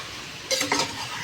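Chicken and spices stirred in a frying pan for biryani, a steady close sizzle with a short burst of utensil scraping through the mixture partway through.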